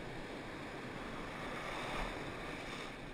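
Rough surf breaks on a beach where people are surf fishing, a continuous broadband wash of waves mixed with wind rumble against the microphone, steady throughout with a slight swell near the middle.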